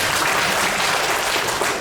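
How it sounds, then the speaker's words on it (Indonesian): Audience applause at a talk on Hindu Nusantara religious teaching, a continuous dense wash of clapping, loud and even throughout a brief stretch. "Tepuk tangan Bu Nina."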